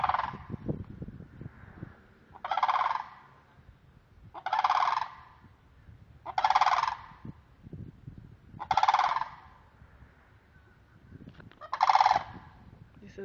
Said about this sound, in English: These are the beautiful flamingos in Florida.